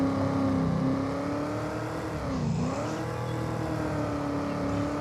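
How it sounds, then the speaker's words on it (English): Mustang Dark Horse car engine in Farming Simulator 25, a steady loud game engine drone with a smooth pitch dip and rise midway, alone without talk. "The old Mustang Dark Horse. I like this car. It sounds good."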